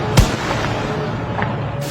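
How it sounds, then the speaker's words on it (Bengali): A single sharp gunshot from a police rifle near a university main gate rings out loud and close at the start. It is followed by a lingering rumbling echo and steady background noise. "আবারও গুলির শব্দ।"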